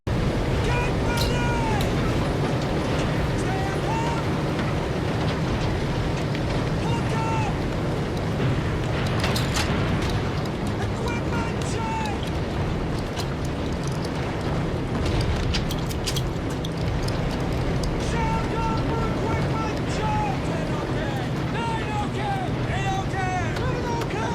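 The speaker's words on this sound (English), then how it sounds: "There's explosions already in the background." Explosions boom and rumble continuously in a Band of Brothers war scene, dense and loud, with shouting, gunfire-like cracks and chaotic battle noise layered throughout.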